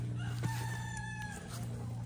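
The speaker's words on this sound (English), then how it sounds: "Oh, there is a chicken." A chicken clucks and crows softly outdoors on a farm, a drawn-out call heard at moderate distance over steady background hum.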